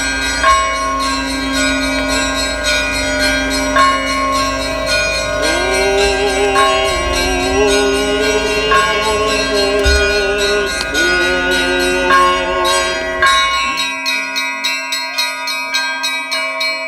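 Church bells of a Russian Orthodox Old Believer church peal loudly in layered, overlapping rhythmic strikes during a metropolitan's welcome, ringing steadily before the bells fade into lingering decaying tones at the end.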